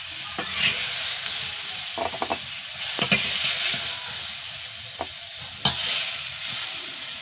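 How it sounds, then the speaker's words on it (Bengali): Young jackfruit pieces fry in oil in a kadai, giving a steady soft sizzle broken by several sharp scrapes and clicks of a spatula stirring them. "কাঁঠালগুলো নেড়ে চেড়ে ভেজে নিয়েছি"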